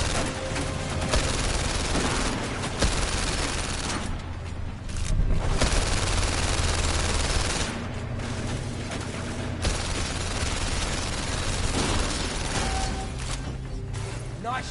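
Sustained heavy gunfire and explosive booms from a tank-firing demonstration, rolling in dense, continuous bursts that surge and ease for the whole stretch, loud and close with no talk.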